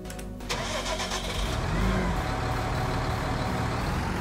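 A tractor engine starts in the farming game Irgendwo in Thüringen, cranking briefly before catching into a loud, steady running rumble that carries on alone to the end, with no talk.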